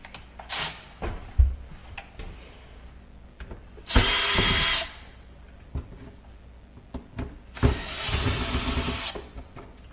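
A power screwdriver backing star screws out of a Kenmore dishwasher: two clear whirring bursts of the motor with scattered clicks, taps and handling knocks between them, close by.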